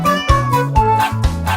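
A cat's meow sounds over a bouncy children's song, set inside a kids' tune about a grandfather with a cat and a dog; the meow is mixed among steady music beats rather than heard alone.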